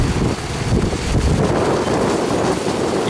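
Strong storm wind roars continuously around a fishing boat at sea, a dense, low rumbling buffeting with gusty swells and no pauses, loud and close, with no voices heard.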